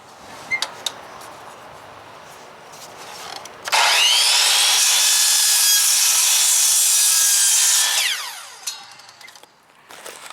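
Wooden trim for a teardrop trailer galley hatch being cut with a saw, one loud sustained cutting run of about four seconds with a whining tone, standing out from quieter workshop background before and after.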